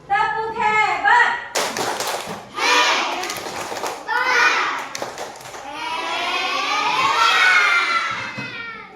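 A group of children does the 'tepuk hebat' clapping chant in a classroom, rhythmic sharp claps mixed with loud shouted chanting voices in bursts.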